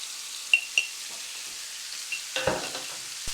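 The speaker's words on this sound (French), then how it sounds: "on va pouvoir mélanger et cuire le tout pendant au moins 5 minutes" A savory cake filling fries softly in a pan, with a low, even sizzle and a few light taps and scrapes of a utensil, quiet and close with no voices.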